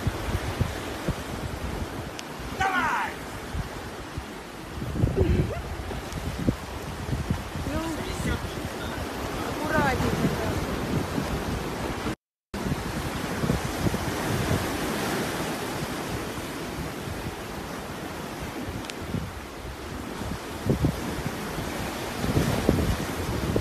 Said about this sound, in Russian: Мне кажется, тебя сейчас накроет волной.